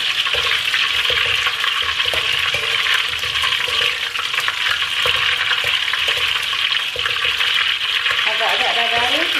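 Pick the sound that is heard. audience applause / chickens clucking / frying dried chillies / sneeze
frying dried chillies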